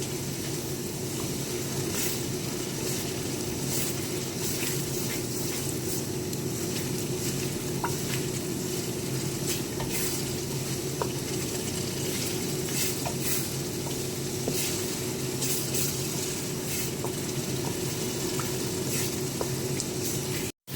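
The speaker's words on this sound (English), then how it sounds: "Now my tomato puree and ginger, garlic and onion paste and seasoning is like this." Tomato puree with ginger, garlic and onion paste and seasoning sizzling in a pan for a tomato stew, a steady close crackling hiss with occasional pops, continuous and unbroken with no voices.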